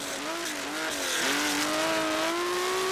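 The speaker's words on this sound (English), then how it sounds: "the Porsche is the loudest car we have ever tested" Porsche 911 RSR race car with an open racing exhaust drives past, its engine note rising and shifting in a loud, continuous rasp with harmonics climbing through the gears.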